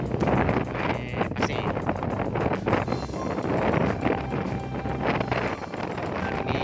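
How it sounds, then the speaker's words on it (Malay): Strong wind buffets the microphone at a beach, a constant loud roaring rumble with gusty surges across the whole stretch and no voices. "Angin sangat kuat sekali ni."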